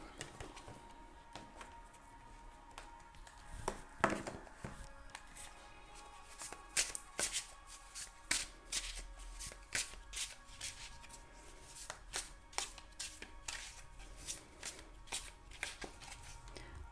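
A deck of tarot cards is shuffled over and over, with quiet, close riffling and soft snapping bursts that come in an irregular rhythm, and no voice.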